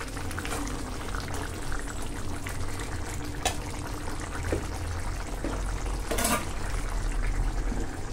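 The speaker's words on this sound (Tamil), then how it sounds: "இன்னும் 2 நிமிஷம் நல்லா கொதிக்கட்டும்" Rajma paneer gravy simmers in a pot, a steady close bubbling and popping with occasional louder splutters, continuous throughout.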